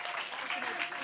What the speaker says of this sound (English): Can we give a round of applause for Radit?